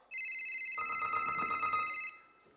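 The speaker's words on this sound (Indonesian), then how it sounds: "Telepon saya tapi saya nggak mau ngangkat." A telephone ringing in a courtroom comedy sketch, a steady electronic ringtone trill lasting about two seconds before cutting off, close and clear with no voices over it.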